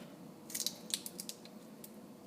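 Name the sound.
peeling shells off raw white shrimp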